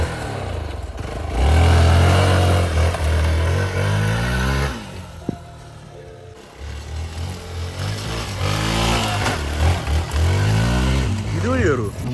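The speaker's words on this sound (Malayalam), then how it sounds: "സ്റ്റണ്ട് കാണിക്കുന്ന ബൈക്ക് പയ്യെ." A stunt motorcycle rides along a dusty road, its engine droning and revving close by while someone talks over it.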